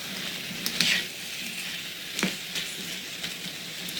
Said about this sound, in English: These are coming along just great.